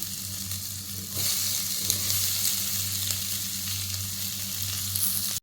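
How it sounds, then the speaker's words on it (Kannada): Potatoes fry in a pan for a millet-rice curry, giving a steady, close sizzle that holds for about five seconds with no talking. "ಇದನ್ನು ಸ್ವಲ್ಪ ಫ್ರೈ ಮಾಡೋಣ. ಈಗ ನಾನು ಆಲೂಗಡ್ಡೆ ಸೇರಿಸ್ಕೊಳ್ತಾ ಇದ್ದೀನಿ."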